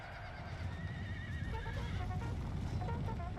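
Cavalry horses whinny and neigh in Napoleon Total War, several drawn-out calls overlapping amid hoof clatter and a low battlefield rumble, moderately distant and fairly faint.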